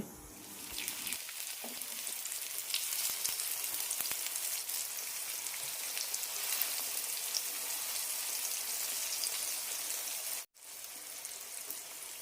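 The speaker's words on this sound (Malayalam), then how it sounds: "മീൻ വറക്കുന്നത് പോലെ വറുത്തെടുക്കാം" Raw banana slices, coated in spices, sizzle steadily in hot oil, a constant crackling hiss with scattered pops that cuts out briefly near the end.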